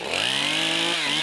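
Stihl MS271 chainsaw engine at half choke, starting and running loud and close with a steady buzzing drone and a dip in pitch near the end, no talk over it.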